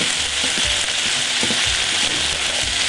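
Vegetables and minced roasted garlic sautéing in a pan, a loud, dense continuous sizzle with occasional stirring bumps, close up and without speech.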